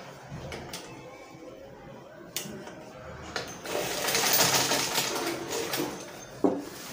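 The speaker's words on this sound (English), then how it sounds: "Having stitched the hem, you can press it, give it a good press." A sewing machine stitching the hem of children's Ankara print joggers, heard in short bursts with clicks and pauses, then a longer steady run of stitching near the end, close up with no speech.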